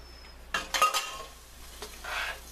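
Cooked pasta being stirred into marinara sauce in a pot, a few close scraping and clinking strokes of a utensil against the pan over a faint kitchen background.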